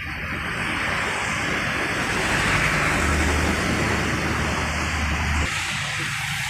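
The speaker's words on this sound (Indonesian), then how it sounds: "bus diberangkatkan tujuan ke Kuningan" A Tunggal Jaya bus heading to Kuningan pulls away with a steady, loud engine rumble and road noise. A low hum rises in the middle, then the sound drops slightly near the end.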